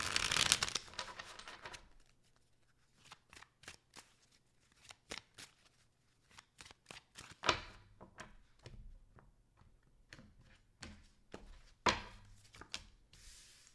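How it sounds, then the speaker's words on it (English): Tarot cards being shuffled by hand at close range, a burst of riffling at the start followed by a long run of quick, irregular soft flicks and taps. "2 more shuffles."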